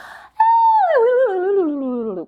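A voice imitates a falling, rolling apple with a held high note that slides down in pitch, wobbling as it descends, then stops abruptly.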